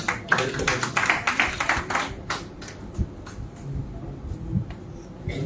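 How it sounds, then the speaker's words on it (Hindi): Applause welcomes the poet Braj Kishore at a Hindustani language poetry award ceremony: a burst of close, crisp handclaps that thins after a couple of seconds into a few scattered claps over low room noise. "जोरदार तालियों स्वागत करें।"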